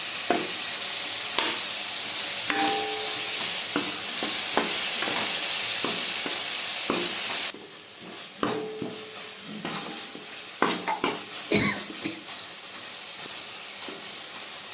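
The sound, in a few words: tomatoes being mashed with a ladle in a pan for rasam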